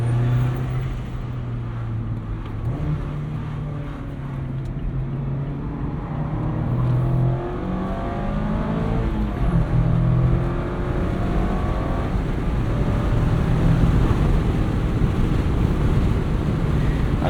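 A 2024 Mazda MX-5 Miata ND3 driving in commuter traffic, its engine a steady low drone with gear-linked pitch rises, under constant wind and road rush.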